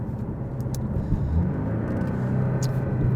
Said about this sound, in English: if you press the button right here on the dash, it will open up the exhaust a little bit more